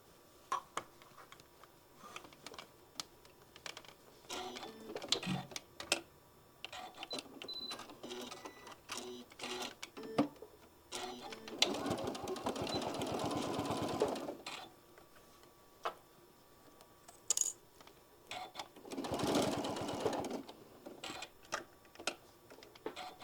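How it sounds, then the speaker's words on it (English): A sewing machine stitches across fabric on a drawstring project in quiet bursts of rapid whirring, separated by pauses filled with soft handling clicks and taps. "I'm going to stitch across 1/4 inch all the way across."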